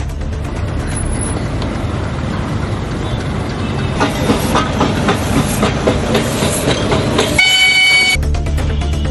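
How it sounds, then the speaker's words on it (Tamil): Nilgiri mountain railway train travelling from Coonoor to Ooty, heard running loud and close as a steady rumbling rail clatter with hissing, and a sharp horn-like tonal blast near the end. "28 பயணிகள் குன்னூர் ரயில் நிலையத்திலிருந்து உதகை வரை மலை ரயிலில் சென்றனர்."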